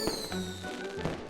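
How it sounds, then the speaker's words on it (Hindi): Cartoon fireworks burst in quick succession, sharp cracks and pops with ringing tonal tails, in a short busy sequence without talk. "उन रंगीन पटाखों को देखो।"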